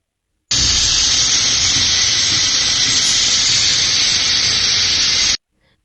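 A pressure cooker holding beef lets out one loud, continuous jet of hissing steam that lasts about five seconds and then cuts off abruptly, with no voices.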